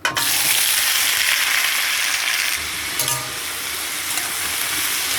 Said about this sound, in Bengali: তেলটা গরম হলে আলুটা দিয়ে দেবো